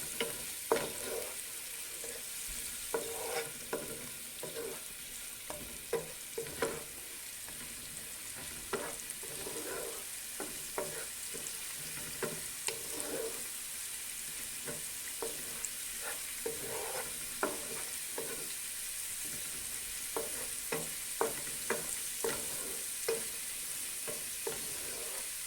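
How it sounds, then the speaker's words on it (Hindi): Green chillies and garlic frying in a pan give a soft, steady sizzle punctuated by frequent spoon scrapes and taps as they are stirred, close and fairly quiet. "हरी मिर्ची और लहसुन अच्छे से भून जाएगी।"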